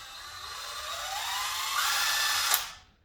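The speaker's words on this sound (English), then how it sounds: "And it has variable rate, variable speed, as you can see." An Ozito 18V cordless drill runs at variable speed, its close electric motor whine rising in pitch as it speeds up, then cutting off and spinning down to silence.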